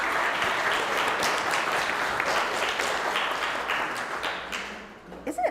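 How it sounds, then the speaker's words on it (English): Steady, dense applause from a congregation fills the clip, thinning out near the end into a few scattered claps. "Isn't it fun to applaud?"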